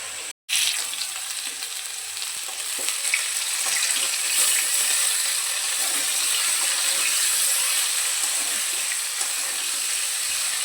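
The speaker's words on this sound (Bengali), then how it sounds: "আলুগুলোকে লবণ হলুদ দিয়ে লাল করে ভেজে নেব" Potatoes fry in a pan with cumin, dried chili, salt and turmeric, giving a steady close sizzle and crackle that carries on evenly throughout.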